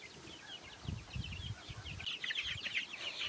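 A flock of about 28 two-week-old chicks in a small fenced pen, peeping in steady high chirps that grow busier toward the end, with soft low thumps and rustling close by.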